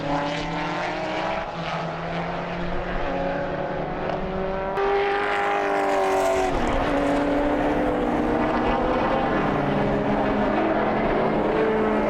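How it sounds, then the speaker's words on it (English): Hyundai Excel race cars in a WA Sporting Car Club final-round race on a circuit, engines droning loudly and continuously with rising and falling pitch as cars pass, no talk over the sound. "Ben Peachy just moving up the inside and effecting a pass into turn number 1"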